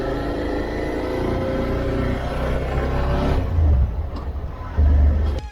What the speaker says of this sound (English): Today we are test riding Suzuki SV650, the third generation.